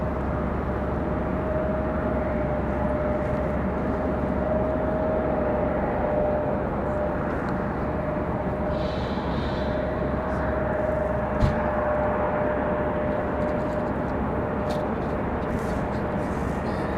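An American Airlines airliner flies near Raleigh Durham airport, a steady broad jet roar held at even loudness throughout with a faint tonal whine, while someone talks over it.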